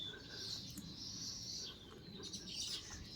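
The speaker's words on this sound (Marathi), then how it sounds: "पक्षी भरपूर आहे त्याच्यावरती येत आहेत" Birds chirp and call from coconut and bakul trees in a home courtyard, several thin high calls repeating over a steady outdoor background, moderately distant.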